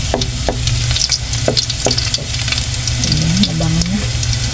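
Chopped onions sizzle and fry in a pan as they turn golden brown, with a steady loud crackle broken by a few distinct stirring scrapes and clinks.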